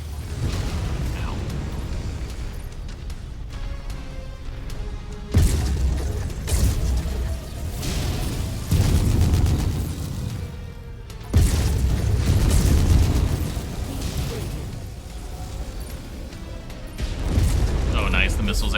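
Missile explosions in a mech shooter game produce repeated heavy, booming blasts with deep rumbling tails that swell and fade over a dense, continuous battle din.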